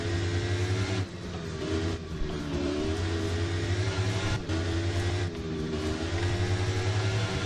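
Aprilia RSV4 1000 APRC ABS motorcycle engine racing in the RIDE video game, a loud continuous high-revving whine with brief dips at gear shifts, steady and close throughout.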